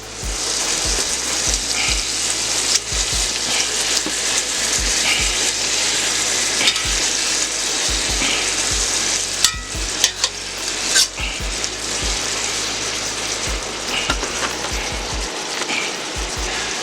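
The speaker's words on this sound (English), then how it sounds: "I got some butter in here, and we're just gonna sear these off real nice" Pork chops searing in butter in a cast iron pan give a loud, continuous sizzle and crackle, broken by scattered low thumps and clicks as the pan or meat is shifted, with no talking.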